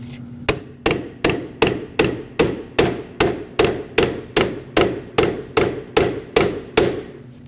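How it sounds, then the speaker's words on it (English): Hammer blows on the steering shaft of a 2007-2017 Ford Expedition: about fifteen sharp, evenly spaced metallic strikes, close and loud, each ringing briefly before the next. "let's go ahead and hammer into this"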